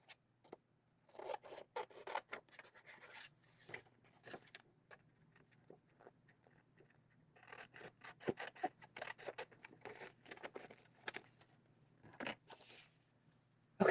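Paper is cut down by hand to fit inside a snowman punch, with bursts of crisp rasping and snipping strokes at close range, a pause in the middle, then more cutting with no talk.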